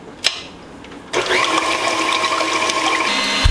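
An electric hand mixer whips egg whites in a bowl. A brief knock comes first, then the motor kicks in with a steady, buzzing whir close by that holds for a few seconds.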